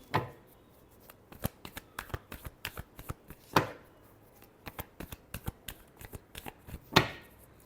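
Tarot cards being shuffled by hand in a run of quick, crisp riffles and taps, with several louder snaps standing out, close and with no voice over them.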